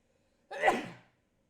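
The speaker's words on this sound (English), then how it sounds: "We'll just sneeze one time." A single sharp sneeze bursts out close up after a moment of quiet, then fades quickly to silence.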